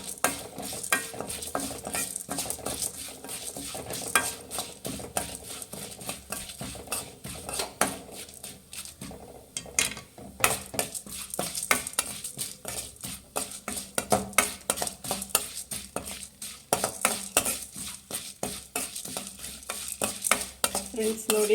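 Cinnamon, cloves, pepper and cardamom dry-fry on a low flame, stirred in a pan with a busy run of spoon scrapes and metallic clinks over a faint sizzle, close and uneven in rhythm.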